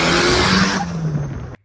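A loud car with an open dump exhaust gives a harsh, raspy roar for about a second and a half, then cuts off abruptly, with no talking.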